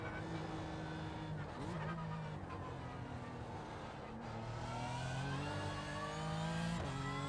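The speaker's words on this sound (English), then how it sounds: "As you're braking, obviously the car's going to be wanting to spit you out." A race car at Bathurst in the iRacing game brakes and accelerates, with a loud continuous engine that drops in pitch on downshifts and climbs again, plus some tire scrub.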